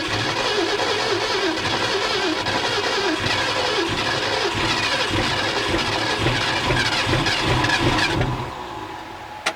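An old big-block Mercury engine with a rotted-out muffler idles steadily, rough and rumbling with a raspy, blatting exhaust, running continuously before cutting off near the end.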